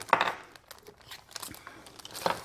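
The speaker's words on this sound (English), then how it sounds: "And this is the plastic bag, the gallon bag." A thin plastic gallon bag crinkles in short bursts, loud crackles at the start and end with quieter rustling between, handled close by.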